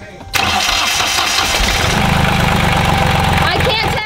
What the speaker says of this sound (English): Okay, test one of the engine.